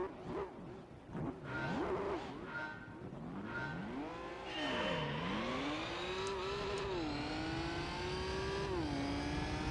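Race cars in the Gran Turismo 3 video game, including an R32 GTR, Subaru STI, Super Legacy and MR2, roar loudly and continuously, with engines revving up and dropping through repeated gear shifts and a brief tire squeal.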